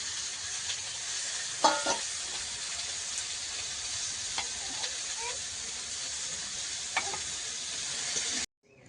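Chunks of elephant foot yam coated in salt and turmeric frying in a wok, a steady close sizzle and hiss with a few sharp clatters and stirring knocks, cutting off abruptly near the end.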